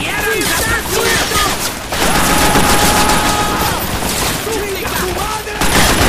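Heavy gunfire in the crime action game Scarface: The World Is Yours, bursts of automatic shots and booms over shouted voices and game noise, loud and nearly continuous.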